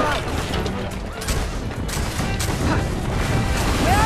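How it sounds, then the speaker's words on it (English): In Assassin's Creed 3: Liberation, a gun is fired into a store of gunpowder, setting off a dense, crashing blast and a chaotic clatter of debris that stay loud and close throughout. "Yes, fire the gun into gunpowder."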